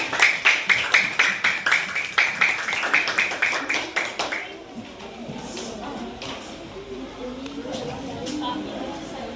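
A classroom audience claps for a student sports group as it comes forward to present, with bright, dense clapping for about four seconds that then fades into murmuring and room chatter.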